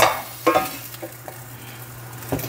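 Ground meat substitute being sautéed in a home pan for ginisang giniling, with a steady low sizzle broken by a few spatula scrapes and stirs, close and alone without talk.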